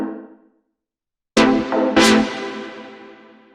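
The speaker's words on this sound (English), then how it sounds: "Then we have these chord stabs" Two bright deep house synth chord stabs ring out loud after a brief pause, each one decaying slowly into a fading tail.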